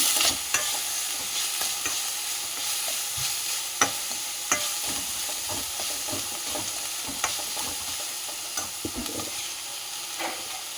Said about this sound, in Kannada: ಆಮೇಲೆ ಹಸಿ ಬಟಾಣಿಯನ್ನು ಸೇರಿಸ್ತಾ ಇದ್ದೀನಿ